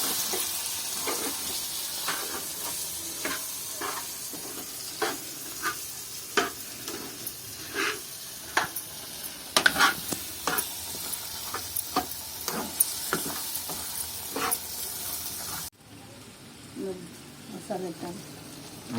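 Spicy village-style bommidi fish curry masala is stirred in a sizzling pan. A spoon scrapes in a steady run of rhythmic strokes over constant frying hiss, voices talk intermittently, and the sound drops abruptly to quieter stirring near the end.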